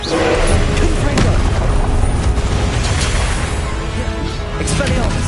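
The Confringo fire spell from the Hogwarts Legacy video game goes off as a loud, booming blast with rumbling, crackling burst noise that runs throughout, and a voice speaks over it.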